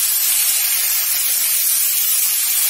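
Teasel gourd, potato, onion and green chili fry together in hot oil in a pan, giving a steady, loud, close sizzling hiss with no pauses or talking.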